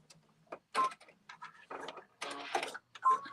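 A sewing machine stitching fabric in short, separate bursts of whirring and clicking, broken by quiet gaps, fairly close and moderately loud.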